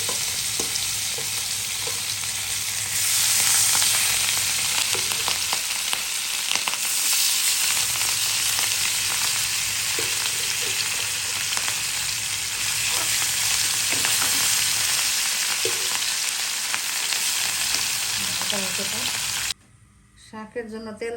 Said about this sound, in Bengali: আগে দিয়ে দিলাম তেল, মাছটা ভেজে নিব।